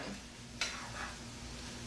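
A steady, quiet hiss of food frying in a pan, with one sharp click partway through and no talking.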